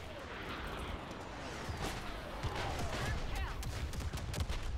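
Rapid blaster fire from the Star Wars Battlefront video game, a dense barrage of sharp repeated shots building over several seconds amid explosive rumble, fairly loud and continuous.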